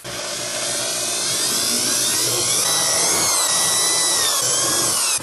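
An electric drill whines continuously at high speed, loud and close, its pitch wavering slightly before cutting off.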